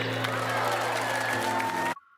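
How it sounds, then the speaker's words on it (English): From the video game Love and Deepspace, a graduation crowd cheers under thunderous applause in a dense, continuous roar that cuts off abruptly near the end. "Cheers and wishes filled the air as thunderous applause roared."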